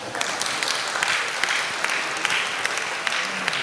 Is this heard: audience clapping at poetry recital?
yes